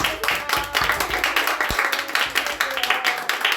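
A small church congregation clapping in a brisk, uneven rhythm, individual claps distinct and close, with a few voices faintly beneath.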